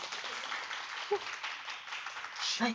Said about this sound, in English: can we please give Karen another round of applause, please?